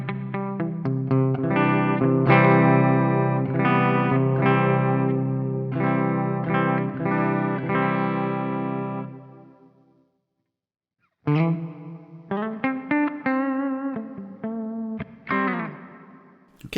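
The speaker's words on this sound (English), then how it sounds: "That's a great sounding hall reverb right out of the box." Electric guitar played through a Coffee Shop Pedals Cortado reverb pedal on its hall setting, controls at noon: strummed chords ringing into a wide, wet wash, a pause of near silence, then shorter chord stabs and picked notes with lingering tails.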